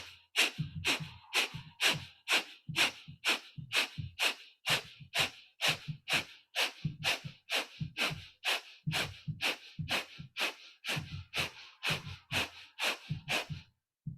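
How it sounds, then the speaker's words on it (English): Brisk rhythmic breathwork exhales, about thirty sharp forceful nasal bursts in a steady fast pulse, close and clear with brief quiet gaps between them, no talking. "Count 30 exhales."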